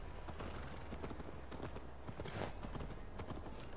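Horses' hooves clop along in the video game Assassin's Creed Valhalla, a quick, irregular rhythm of several animals trotting at moderate distance, fairly quiet against a soft background.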